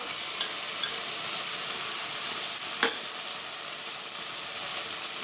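A paste of ground cumin, black pepper and ginger hits hot oil with fried onions in a pan, a loud continuous sizzle with one brief scrape of a spoon partway through.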